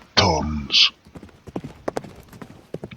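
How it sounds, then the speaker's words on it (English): Trotting horses pulling a sled along snowy, twisting streets, their hooves clopping in a quick, brief run at the start, followed by a sharp hiss, then faint scattered knocks under talk. "I held the prancing horses to a trot as we maneuvered the twists"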